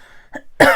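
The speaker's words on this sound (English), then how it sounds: "Excuse me, I'm going to cough." A woman at a papercraft desk gives a short throat-clearing huff followed by one harsher, louder cough, close to the microphone.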